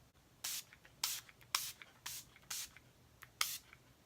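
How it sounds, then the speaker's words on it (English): Several quick hissing bursts of an Urban Decay makeup setting spray mister, about seven short pumps in an uneven rhythm, close up and soft in a quiet room. "And then I'm going to spray the Urban Decay."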